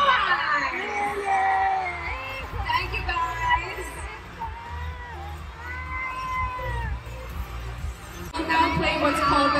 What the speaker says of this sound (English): Let's give the boys a big round of applause